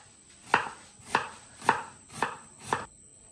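Tomato, onion, chili and coriander are chopped on a board with five evenly spaced, close knife strikes, each a crisp thud, with no talking.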